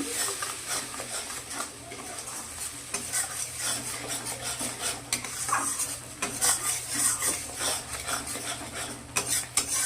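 Spice masala with red chilli powder stirred in a pan for fish kalia: close, steady scraping and clinking of a utensil against the pan over a soft continuous sizzle, with no voices.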